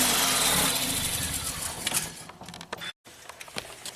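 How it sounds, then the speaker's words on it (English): A flood-damaged Ford Focus engine runs unevenly after a transmission swap, its tone faltering and sputtering as it slows toward stalling, with a brief dropout before it keeps chugging roughly. "this engine runs like crap"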